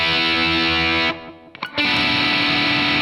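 Distorted electric guitar playing notes from the solo of a song, a sustained ringing chord that cuts off briefly, then a new held distorted note rings out loud.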